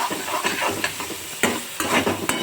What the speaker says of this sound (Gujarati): હવે ફ્રેન્ડ્સ હું અડધા કપ જેટલી હું કોબી એડ કરીશ એને પણ હું સાથળી લઈશ